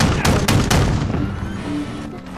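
Rapid gunfire from the video game Call of Duty Modern Warfare, a burst of loud close shots in the first second followed by a fading rumble and softer game noise.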